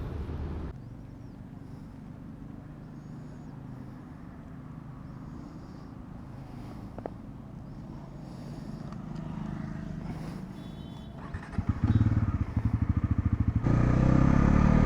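A repaired, previously crashed Bajaj NS400 motorcycle engine hums steadily while riding, then grows louder and rougher near the end with throttle blips and rattling; no talking.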